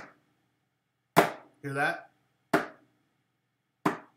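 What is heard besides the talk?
index finger slapping down onto a tabletop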